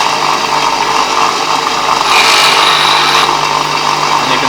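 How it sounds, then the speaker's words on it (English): Bench grinder wheel sharpening the 30-degree bevel of a hand plane blade, giving a steady close grinding whine that rises a little louder through the middle of the clip before settling back. "now it's grinding in the middle of the bevel, which is what I want, at 30 degrees"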